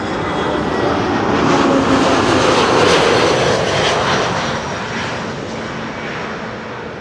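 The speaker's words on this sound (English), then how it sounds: "TAP Air Portugal, flight 668, an A320neo arriving from Lisbon." A TAP Air Portugal Airbus A320neo jet arriving from Lisbon lands on Runway 06, the Kaagbaan, at Amsterdam Schiphol, its loud engine roar swelling close by and then fading slightly as it passes.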